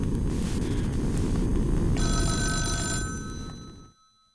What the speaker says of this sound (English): But you were awoken by the sound of a phone.